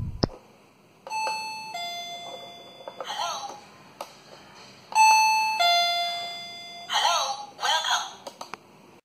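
A wireless doorbell receiver chimes through several electronic ding-dong tones as its melody selection changes, bright and close, with voice-like sounds from the melodies in between and a sharp click at the start.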